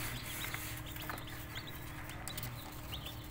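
Newly hatched chicks in a homemade incubator, a steady bed of soft cheeping and peeping with scattered brief chirps, fairly faint and continuous with no talking.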